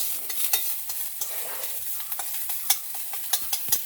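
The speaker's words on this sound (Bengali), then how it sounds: "এই আমড়াটা আমি তেলের মধ্যে দিয়ে দিলাম।" Hog plum (amra) pieces fry in hot oil in a pan, a close continuous sizzle broken by frequent spoon stirs and scrapes.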